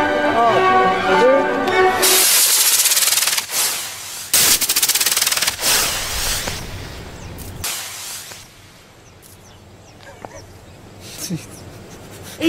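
Homemade rocket launcher firing a rocket fitted with a badminton shuttlecock nose: a sudden loud whooshing hiss bursts in after a voice counts down, roaring for a couple of seconds, then sharp cracks and pops fade into a quieter, scattered tail.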